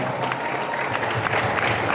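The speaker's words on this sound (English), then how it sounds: "Can we have a huge round of applause?" Crowd applause at a promotional event for a cricket biopic, a thick continuous patter of many hands clapping at close range with a low rumble of the audience beneath.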